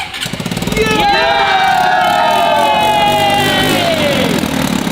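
The engine of a homemade DIY army tank turns over and catches, then roars loud and steady with a rising whine that slowly falls back. A faint voice can be heard under the din.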